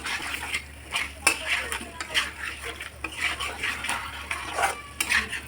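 Garlic chicken with soy sauce and tomato ketchup being stirred in a pan, a utensil scraping and clinking against the metal in repeated strokes over a steady low hum, close and moderately loud, with no voices.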